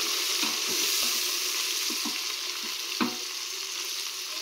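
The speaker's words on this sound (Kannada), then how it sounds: "ಸ್ವಲ್ಪ ರಾ ಸ್ಮೆಲ್ ಹೋಗೋ ತನಕ ಹುರ್ಕೊಬೇಕು." Sizzling frying in a pan while making simple chicken biryani, a steady hiss with a few soft stirring clicks and taps, close and alone with no talking.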